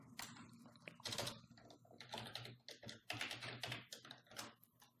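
A computer keyboard clatters with rapid, uneven key presses, close and crisp, typed in quick bursts with brief pauses and no voices.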